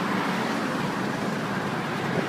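A worn belt tensioner pulley whirs and rumbles steadily under a running BMW E39 5-Series engine, a constant close grinding drone with no break and no talking.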